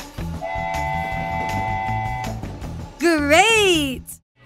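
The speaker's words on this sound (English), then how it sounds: "Train." Short cartoon-style train sound effect with a steady two-tone horn or whistle over a rhythmic rumble, then a rising and falling whistle near the end, played alone and fairly loud.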